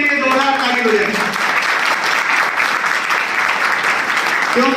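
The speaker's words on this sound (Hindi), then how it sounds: "गणेशपुरा के लिए जोरदार ताली बजाएं" Loud, steady clapping from a crowd at a village meeting about a Ram Navami procession in Ganeshpura, continuous throughout, with a voice briefly heard over it at the start.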